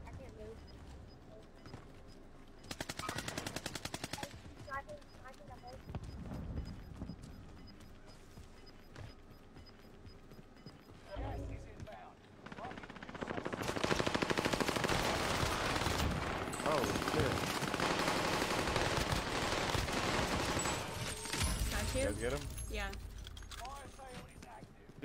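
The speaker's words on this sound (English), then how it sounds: "those incendiary rounds just melt my armor" Incendiary-round gunfire in an online multiplayer shooter, heard as loud sustained bursts and rapid shots layered with explosions and game noise, while players talk over the action.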